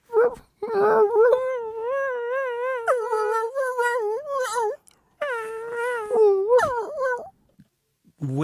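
A human voice imitates a dog's whimper, drawn out in long rising and falling whiny tones, close and fairly loud, with a short pause midway and a brief clipped start.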